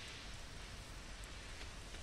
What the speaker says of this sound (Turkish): Aa, yağmur yağıyor, evet.